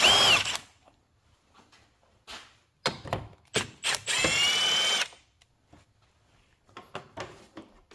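A power drill spinning a 10 mm socket to remove a corner fastener on a Chevy Cruze bumper, with several short whirring bursts and one longer run, close by, amid clicks and handling noises.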